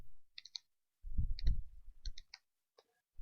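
Close-up clicking of computer keyboard keys in short bursts of a few quick keystrokes, separated by pauses, alongside some soft low thumps.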